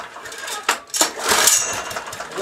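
A 1970s Honda E2500 generator engine being pulled over and trying to catch, with loud rough bursts and sputtering that rise into a brief, uneven near-running roar without settling into a steady idle.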